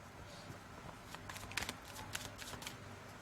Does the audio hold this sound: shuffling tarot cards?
yes